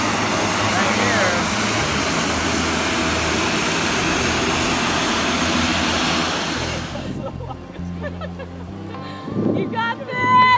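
An airplane at the world's shortest runway in the Everest region of Nepal, its loud, steady engine roar filling the first seven seconds before cutting off, leaving quieter background sounds and people talking.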